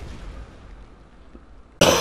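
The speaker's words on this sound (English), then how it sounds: "I apologize for all the coughs and stuff ahead of time." Person coughing and clearing their throat while playing Pokemon Scarlet: a quiet stretch of muffled rumbling, then one sudden loud close cough near the end.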